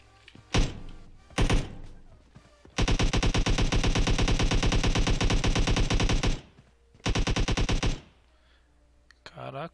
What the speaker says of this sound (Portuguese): Ó, tiro em mim, pessoal.